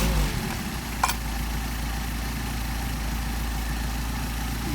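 A Mercedes 190SL engine running on Solex carburetors idles at raised RPM, a steady, fairly loud hum with one brief click about a second in and no talking.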